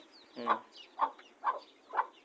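A hen clucks four times in an even, steady rhythm, each cluck short and close, with little else around it.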